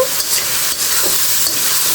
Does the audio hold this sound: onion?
yes